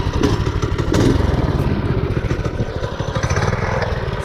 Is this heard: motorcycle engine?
yes